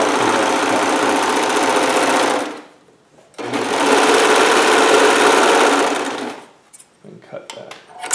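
A sewing machine stitches a Hawaiian shirt in two long, steady runs, pausing briefly between them, then gives a few short, lighter bursts at the end.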